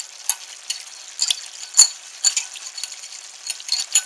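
A spoon scraping and clinking through a slurry being stirred into a sauce with onions and mushrooms in a pan, in irregular bright metallic strokes close up, with no talking.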